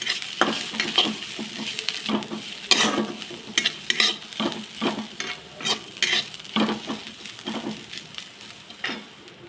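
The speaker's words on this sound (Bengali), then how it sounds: "পেঁয়াজগুলো ভাজা ভাজা হোক।" Onions frying in oil with black cumin in a pan, a close sizzle punctuated by repeated irregular scrapes and knocks of a stirring spoon.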